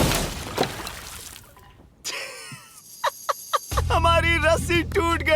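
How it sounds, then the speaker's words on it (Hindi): Large water bag dropped from a height as its rope snaps, a sharp burst and rushing spill of water onto the ground, followed by squealing, warbling sounds and loud bursts of noise. "हमारी रस्सी टूट गई और सारा पानी जमीन पर बह गया।"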